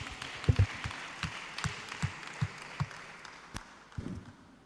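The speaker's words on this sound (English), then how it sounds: "Clap for him, please." Sparse applause at a church young professionals forum, a handful of distinct claps spaced out irregularly, faint and thin, with a low murmur in the room.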